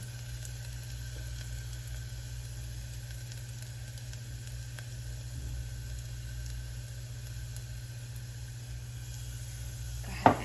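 Turmeric browning in melted butter in a pan gives a steady, low sizzle that holds evenly throughout, with a soft knock near the end.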